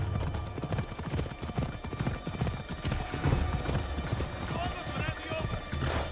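Horse hooves clip-clop at a steady riding pace in Assassin's Creed Odyssey, a close rhythmic clatter running throughout while characters talk over it.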